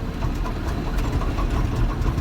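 A Caterpillar excavator with joystick controls runs its engine at a steady, slightly raised rev, a dense continuous rumble with knocking vibration close by and no talk.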